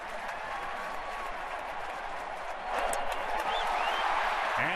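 A packed baseball stadium crowd roars steadily at a 2009 Yankees at Twins playoff game, a dense wash of cheering and clapping that swells louder midway, heard from a distance.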